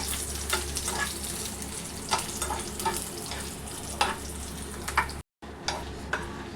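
Dried red chillies fry in a pan of oil for tamarind pulihora, giving a steady crackle with repeated stirring scrapes and one very brief drop-out near the end.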